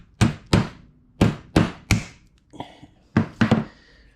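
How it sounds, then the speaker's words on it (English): A hammer knocks a small plastic piece onto a vehicle starter in a home workshop: about nine sharp, solid taps in uneven groups, close and loud, with a short pause and a few lighter knocks midway. "And then we take a hammer."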